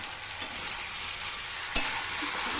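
A close, steady sizzle of vegetables frying with turmeric, cumin and chili powder in a pan, with a couple of brief spatula knocks, one sharper clack near the end, and no voices.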